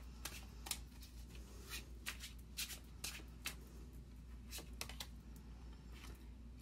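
Tarot cards being shuffled and handled up close, giving a quiet run of soft riffling flicks and papery snaps in irregular bursts against a low steady hum, with no voice.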